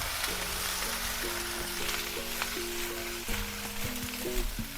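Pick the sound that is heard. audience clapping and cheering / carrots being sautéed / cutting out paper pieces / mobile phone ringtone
carrots being sautéed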